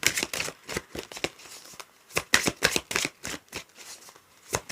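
A deck of cards shuffled for a love reading, quick clustered riffles and slaps in irregular bursts, close and crisp against near silence.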